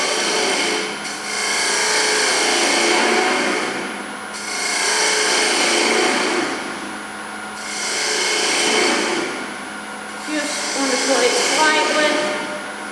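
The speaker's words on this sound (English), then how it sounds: "So I'm going to drill the face up." A drill bores into the face of a small wooden piece on a lathe in repeated passes, a steady whirring grind swelling and easing about four times, with a whining machine hum throughout.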